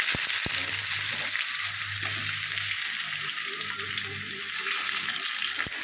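Cumin seeds sizzle in hot oil for a vegetable egg curry, a loud, steady crackling fry with a few sharp clicks, close and continuous.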